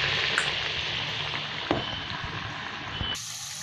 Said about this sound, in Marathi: तेलामध्ये पण हळूवार सोडायचे एकदम हात सांभाळून.